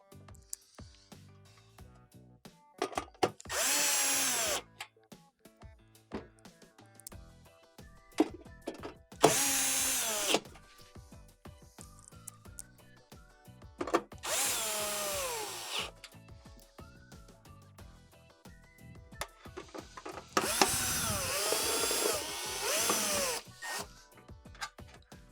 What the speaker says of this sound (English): you're gonna go ahead and reinstall your 6 1/4-inch screws on the cover